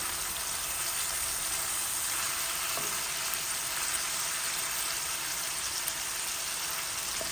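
A piece of chicken, just flipped, fries in hot oil with a steady, even sizzle and crackle, fairly close and continuous, with faint pops and no voices.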